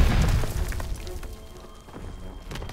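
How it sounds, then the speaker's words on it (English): Stun grenade going off in Call of Duty: WWII Team Deathmatch, a loud low boom at the start that decays into a lingering ringing tail with faint scattered thumps and clatter afterward. "Toss it, stun grenade!"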